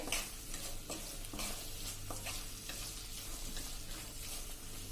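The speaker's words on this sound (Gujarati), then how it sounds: "પનીરને આ રીતે આપણે મસાલા સાથે એકદમ સરસ મિક્સ કરી લેવાનું છે" Paneer is stirred and mixed with masala in a hot pan for a cheese paneer ghotala street-food dish, with a steady close sizzle and frequent scraping, clacking stirs throughout.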